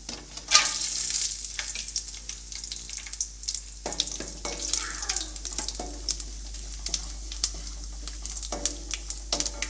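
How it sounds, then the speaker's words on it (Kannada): Cumin seeds and cashews fry in hot oil in a pan over a medium gas flame, giving a steady crackling sizzle with bursts of sharp pops and stirring scrapes close by. "ಒಂದು ಸ್ವಲ್ಪ ಜೀರಿಗೆ ಹಾಕ್ತಾಯಿದ್ದೀನಿ ಹಾಗೆ ಒಂದು ಹತ್ತು ಗೋಡಂಬಿ ತೊಗೊಂಡಿದ್ದೆ ಗೋಡಂಬಿ ಹಾಕ್ತಾಯಿದ್ದೀನಿ"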